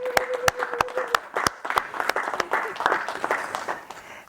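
An audience at a professorial inauguration ceremony applauds, with loud separate hand claps standing out over a broader crowd clapping, and a voice briefly heard at the start.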